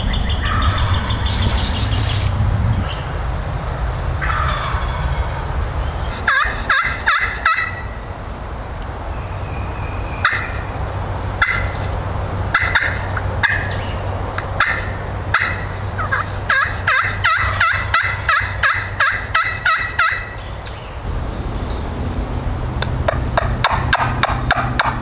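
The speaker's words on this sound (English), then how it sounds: "There's two toms down here." Wild turkey toms gobbling on Virginia public land during spring season, repeated rattling gobble bursts in several clusters, fairly close and loud over steady outdoor background noise.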